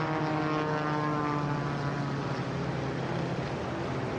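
An MXS race plane in Breitling livery flies the Red Bull Air Race course at San Diego in 2008, its propeller engine a loud, continuous, close droning roar.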